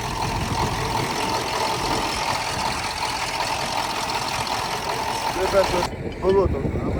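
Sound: tractor engine running, Belarus T-150

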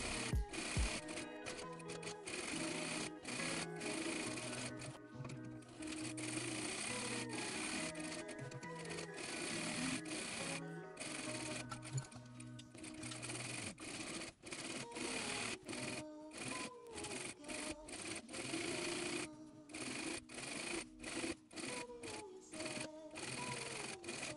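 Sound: sewing machine double top stitching denim shorts

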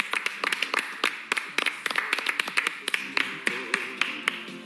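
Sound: studio audience applause

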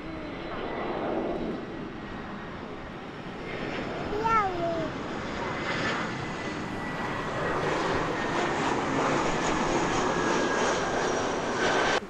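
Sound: Loong Air airplane engine roaring nearby

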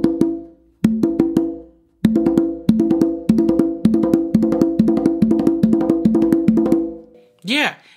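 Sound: hand drumming exercise on tumba starting with non-dominant hand

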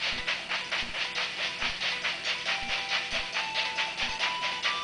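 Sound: bomb train moving, from video game Zelda: Spirit Tracks

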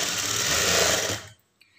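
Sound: sewing machine stitching blouse lining

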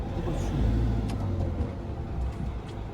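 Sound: caravan motorhome reversing on a narrow road

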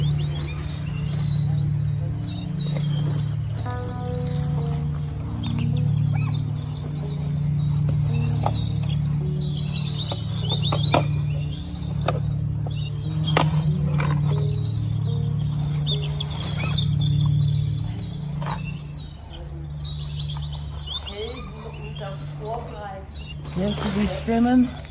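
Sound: birds singing

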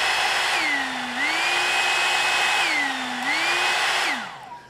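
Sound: Amazon hot air brush blowing air

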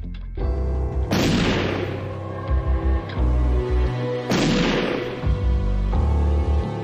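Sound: gunshots

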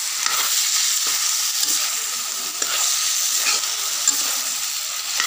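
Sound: stirring pumpkin and potatoes in a pan

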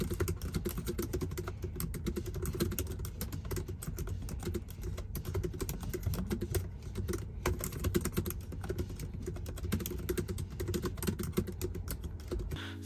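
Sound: typing on MacBook Pro M1 Pro keyboard

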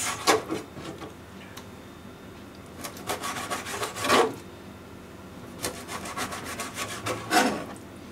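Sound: knife cutting fish into pieces

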